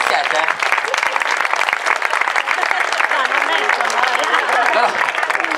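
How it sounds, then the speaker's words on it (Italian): An audience at a fashion night event applauds loudly and steadily, a dense wash of many hands clapping at once with crowd murmur mixed in throughout. "Fate un applauso a loro."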